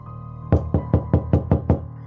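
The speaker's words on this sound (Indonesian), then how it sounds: "Suara ketukan pintu memecah suasana Ngatinah yang sedang memikirkan anaknya." A door is knocked seven times in an even, fairly quick rhythm, each knock sharp and close, following a short stretch of quiet low hum.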